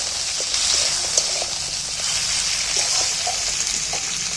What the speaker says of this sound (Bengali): একটা টমেটো নিয়েছি এইটাকে একটু ভালো করে ভেজে নেবো তেলের মধ্যে